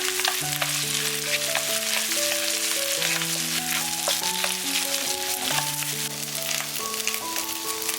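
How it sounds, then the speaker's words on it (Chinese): Egg fried rice stir-fries in a wok to cook off moisture, a dense, constant sizzle running under melodic background music throughout. "炒干它的水分。"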